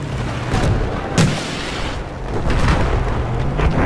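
A C4 charge detonates in a video game tank battle, a loud booming blast with a deep rumbling tail, followed by further heavy explosive thuds and crackling in a dense, continuous wash of battle noise.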